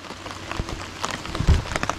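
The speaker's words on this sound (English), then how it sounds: "I'm sure you can hear the rain, but as you can see, the rain is running off the roof." Rain pattering steadily on a tarp shelter roof, a dense close spread of drops with a few heavier splats and drips running off the edge, no voices.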